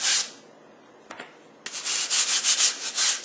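Shortening, a vegetable fat, being rubbed by hand over a fondant cake dummy, heard as soft close-up hissing friction strokes, a brief pause then a run of rhythmic rubbing passes with no talking.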